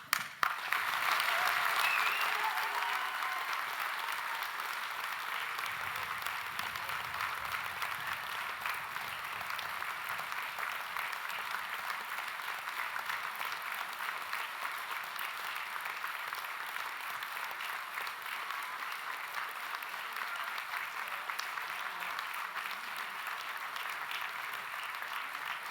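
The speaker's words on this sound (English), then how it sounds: "That's a lot of applause, but not yet a single award." Sustained applause fills a graduation ceremony hall after the presentation of students, an even, continuous wash of many hands clapping at a distance that rises briefly at the start and holds steady throughout.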